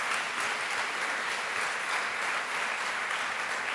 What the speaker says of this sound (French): on les applaudit très fort et chaleureusement